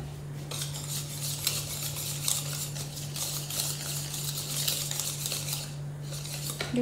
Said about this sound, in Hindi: और साथ ही में जो ये क्रीम ली थी इसे भी मिक्स कर देते हैं।